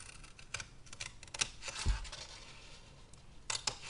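Scissors cut card for a handmade mini album, giving faint, crisp snipping clicks in uneven bursts, with a soft thud midway, in a quiet room.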